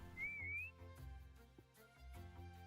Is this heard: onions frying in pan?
no